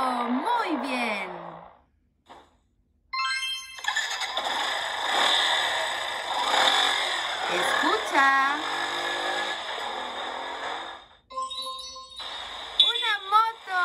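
A motorcycle rumbles steadily and revs up partway through, lasting around seven seconds, with a voice speaking briefly before and after it.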